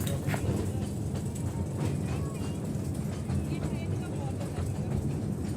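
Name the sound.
toy train ride at the National Railway Museum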